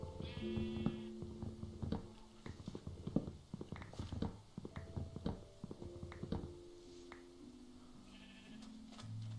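Minecraft sheep bleat repeatedly in short cries over a pattering of hoof-like clops, with a few brief tonal game effects, quiet overall.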